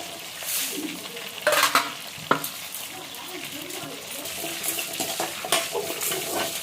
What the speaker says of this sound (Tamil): இது ஜீரகம் மிளகு பட்டை மிளகா கடலைப்பருப்பு இல்லைங்களா அதெல்லாம் வறுத்து பொன் வறுவலாக வறுத்து எடுத்துக்கணும்